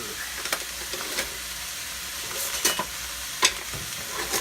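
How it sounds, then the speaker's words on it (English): Cabbage soup ingredients being stirred in a pot, with a steady sizzle and hiss punctuated by occasional scraping clicks of a spoon, close and continuous. "All that goes in the pot. I need a stir."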